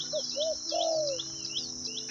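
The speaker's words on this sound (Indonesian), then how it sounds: "Jadi ini burung sini luar biasa suaranya teman-teman." Morning birdsong on a mountain: clear whistled notes and quick sweeping chirps from nearby birds, with a high insect-like buzz running steadily underneath.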